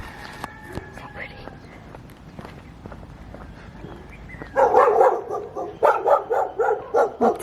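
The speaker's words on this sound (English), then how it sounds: "Lots of dogs." Several dogs bark in quick repeated bursts toward the end, after a quieter stretch with soft rustling and scattered clicks, in a residential street in Tahiti.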